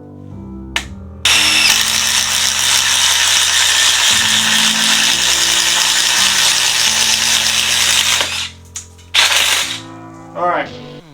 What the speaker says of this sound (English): I'm going to show you right now with no bench why an impact is superior for drilling holes